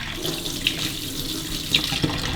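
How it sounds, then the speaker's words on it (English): Warm tap water running steadily into a kitchen sink, a continuous close splashing rush with a few small drips and clinks, no talking. "So I'm just going to fill up the sink with warm water."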